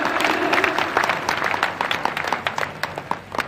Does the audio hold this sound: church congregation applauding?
yes